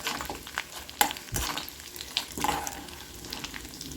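Garlic and curry leaves frying in sesame oil with urad dal and chana dal, a crackling sizzle broken by sharp spoon scrapes and stirring clatters, close and continuous.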